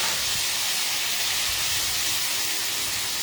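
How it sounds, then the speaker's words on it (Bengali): Paneer-stuffed pointed gourd sautés in a pan, a steady loud sizzling hiss running unbroken throughout at close range. "একটুখানি সময় এটাকে একটু সটে করে নিচ্ছি"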